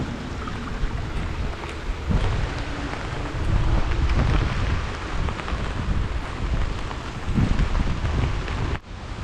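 Rain and wind from a passing typhoon roar close and loud, with steady heavy downpour noise and gusts buffeting the microphone, the whole scene alone with no voices.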